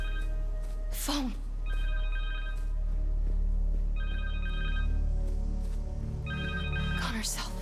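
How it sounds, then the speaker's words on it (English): A cell phone rings in the video game Spider-Man 2, its repeating electronic tone sounding three times at a steady rhythm over low game ambience, with a character's voice speaking between rings. "Connor's cell phone."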